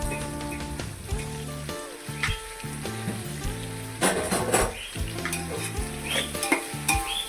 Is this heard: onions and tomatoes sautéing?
yes